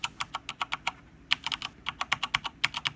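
Steady typing on a keyboard with PBT keycaps, close and crisp, with a brief pause midway before the clacky keystrokes resume in a quick rhythm.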